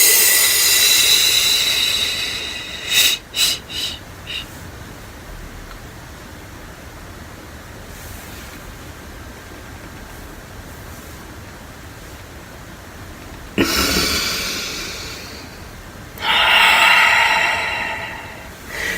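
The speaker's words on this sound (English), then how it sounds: "My breath is going to come in. Breath comes all the way out." Deep breaths drawn in and pushed fully out during a chakra breathing exercise, heard as a few long, close, airy rushes separated by stretches of near silence, with no talking.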